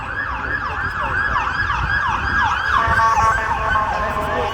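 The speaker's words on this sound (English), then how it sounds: "That's right. The sirens." An emergency vehicle siren wails in repeated rising-and-falling sweeps, steady and fairly loud, with faint road noise beneath and no talking.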